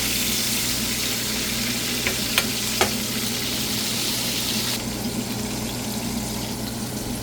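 Ground beef sizzles and crackles steadily in a frying pan, close and continuous, with a few brief clicks of utensils early on and the hiss thinning slightly toward the end; no one speaks.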